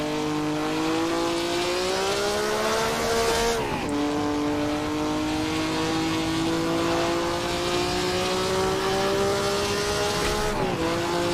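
A Formula One-era race car in the Assetto Corsa racing game circles Silverstone, its engine holding a loud, high whine that dips at gear shifts, while the tires slide and squeal at times.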